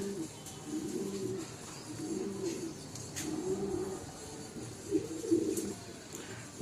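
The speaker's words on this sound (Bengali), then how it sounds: "এই যে বন্ধুরা দেখুন পায়রা দুটো" Pigeons give low, throaty coos in a steady repeating rhythm, about one phrase each second, close and clear over a quiet background, with no talking.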